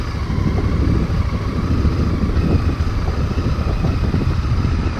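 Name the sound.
Honda Varadero XL1000V motorcycle engine on a green lane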